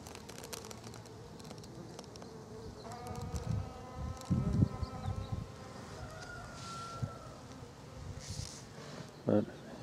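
Bees buzz steadily nearby, a droning hum that rises and falls, with light rustling and faint talk in the background.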